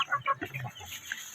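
Rhode Island Red and Brahma chickens cluck in a short, quiet burst of a few quick, close clucks with no talking.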